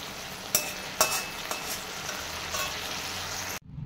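Jute leaves frying in a pan, a steady close sizzle broken by a few sharp clinks of a utensil, ending abruptly.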